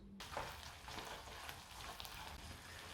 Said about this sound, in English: I'll start by pan fry the meat first until it's roughly cooked.